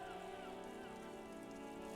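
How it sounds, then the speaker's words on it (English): Steady rain falling in the video game Disco Elysium, a continuous even wash of patter with a faint tonal music bed, constant and fairly quiet. "This rain will not let up anytime soon."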